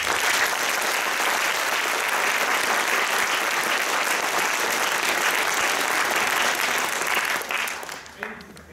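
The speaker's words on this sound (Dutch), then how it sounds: "Daarvoor applaus" An audience at a theatre performance gives sustained, loud applause that fills the room, then tapers off near the end as a few last claps trail away.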